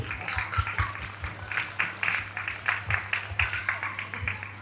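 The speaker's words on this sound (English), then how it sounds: "can we clap for all the children who graduated today?" An audience claps for children graduating from a nature school, producing rhythmic, moderately faint hand claps that come and go unevenly under a low steady hum.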